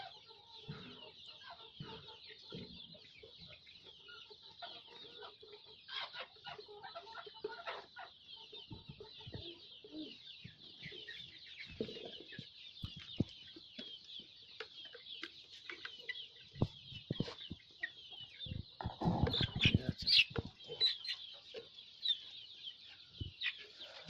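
Chickens on a native chicken farm cluck and murmur steadily, with scattered louder squawks and rustling from nearby birds throughout.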